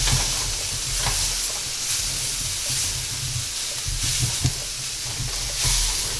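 A tortilla fries in a pan for chicken enchiladas, giving a steady, close sizzle and hiss with a few soft stirring or shifting sounds, and no talking.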